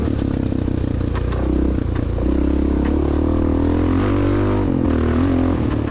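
A loud Honda XR600R dirt bike engine runs steadily throughout at a motocross track, its pitch rising and falling as it revs, close and continuous with no talk.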